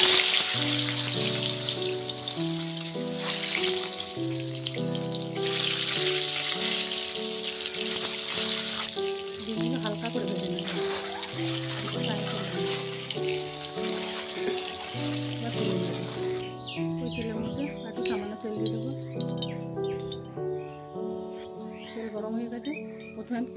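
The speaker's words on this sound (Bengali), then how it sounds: "এই তেলের মধ্যেই ডিম কটা আমি ভেজে নেব।" Eggs frying in oil for egg pulao, a steady crackling sizzle heard under loud melodic background music that carries on to the end.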